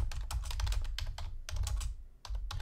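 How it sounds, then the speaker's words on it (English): Someone typing on a computer keyboard, quick irregular bursts of clicking keys at close range with short pauses between, fairly quiet and with no speech over it. "Sorry for the typing."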